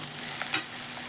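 Sabudana khichdi ingredients sizzle faintly in a pan as they fry, a soft, steady hiss with a brief stir partway through and no talking.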